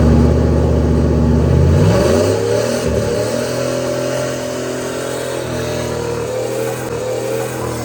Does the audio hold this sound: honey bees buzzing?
no